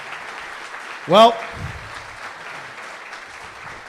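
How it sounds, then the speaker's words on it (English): A crowd's round of applause at a debate event, a steady wash of clapping beneath a brief spoken word from a voice. "Big round of applause."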